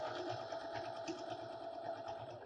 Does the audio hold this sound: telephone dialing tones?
no